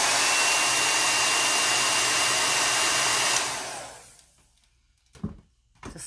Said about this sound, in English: It's a small area, so it doesn't take much with the blow dryer to get it to dry.